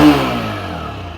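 A 125cc motorcycle engine revs under throttle with a loud, steady, buzzing exhaust note. The note eases off slightly over a second or so, with no voices.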